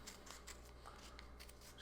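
Sharp scissors snip through kinesio tape cut straight up the middle, a few faint crisp cutting sounds over a quiet room hum.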